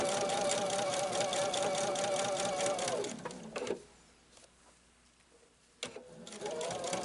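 A sewing machine stitches quilt seams for an on-point quilt, whirring steadily and close for about three seconds. It winds down into near quiet, then starts up again near the end.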